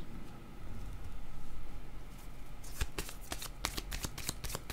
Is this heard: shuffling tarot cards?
yes